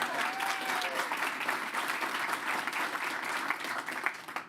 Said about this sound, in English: let's do a round of applause so she's watching.